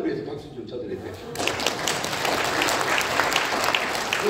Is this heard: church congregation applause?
yes